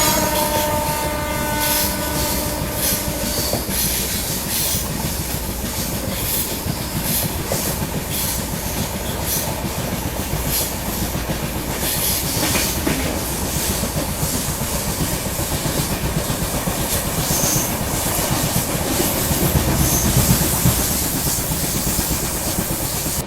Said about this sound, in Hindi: दोस्तों ये आ रही है पुष्पक एक्सप्रेस